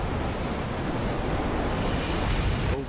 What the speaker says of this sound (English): Overcast, choppy seas, and murky water.